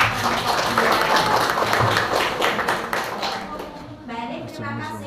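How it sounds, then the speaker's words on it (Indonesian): Students applaud in a classroom after a group discussion presentation, giving lively mixed clapping close by with voices over it, then thinning toward the end. "kita kasih tepuk tangan yang meriah"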